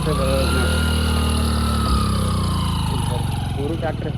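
A tractor fitted with a turbo revs hard in rural North Karnataka, a loud, sustained engine roar with steady droning harmonics, with voices talking over it throughout.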